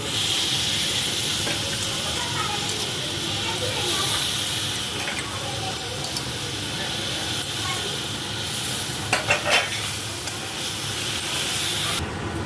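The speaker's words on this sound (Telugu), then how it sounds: "ఇలా ఫ్రై చేసుకోవాలండి" Chicken frying in a pan with tomato puree, coriander powder and salt, restaurant-style fried rice biryani cooking, giving a steady close sizzle and hiss throughout, with a few brief utensil clatters near the end.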